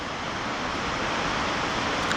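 Palouse Falls pours in a steady, broadband roar of falling water, constant and moderately distant with no other sounds standing out.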